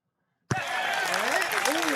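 Spectator applause at a golf tournament, the British Open, starting abruptly after silence and holding as a steady, dense wash of many hands clapping, with a voice running over the top.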